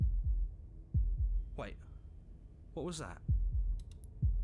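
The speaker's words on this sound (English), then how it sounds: "That was the sound of a heartbeat." A slow heartbeat thumps in the video game Slay the Princess, soft low beats recurring under a voice that speaks in between and over them.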